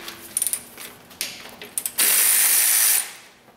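A 12 mm ratchet working the alternator tensioner bolt on a Toyota Camry, close rapid clicking bursts followed by a sustained loud whirring spin.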